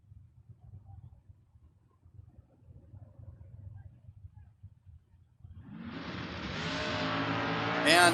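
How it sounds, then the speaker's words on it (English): Drag race between a 1996 Mustang and a 2001 Camaro at a door car event: low idling engine rumble gives way to a sudden loud, broadband engine roar that builds and holds through the end. "96 Mustang versus the 2001 Camaro."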